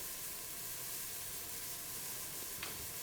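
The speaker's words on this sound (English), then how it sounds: "With the bacon fat still in the braisier, add the onions and garlic, sweat until soft and lightly browned" Onions and garlic sweat in bacon fat in a braiser, giving a soft, steady hiss of gentle frying that stays low and even, with one faint tick near the end.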